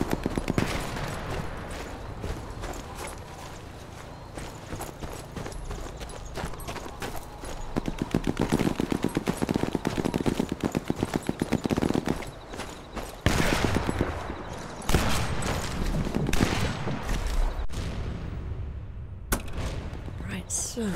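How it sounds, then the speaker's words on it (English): Gunfire rattles through a round of the video game Sniper Elite 4, with dense bursts and fusillades of shots that swell and drop, rapid bursts clustering in the middle and near the end, and speech passing over them. "Gunshot was heard by who?"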